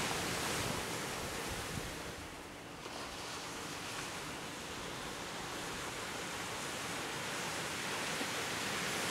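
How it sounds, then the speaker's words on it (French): Sea waves wash steadily onto a beach at Petite Caye, Saint-Martin, a continuous broad roar of surf with a slight lull partway through and some wind, close and full, with no talking. "Je vous laisse écouter la mer."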